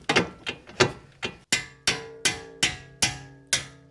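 A steel pickle fork is hammered between a ball joint and the knuckle on a Honda Pilot, giving about ten sharp metallic strikes in a steady rhythm, close and ringing.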